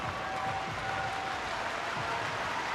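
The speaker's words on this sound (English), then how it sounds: "Crowd getting behind Marcus Blaze." A wrestling crowd at the Big Ten Championships cheers steadily for Marcus Blaze, a dense, constant roar of voices and scattered clapping that fills the arena for the whole moment with no break.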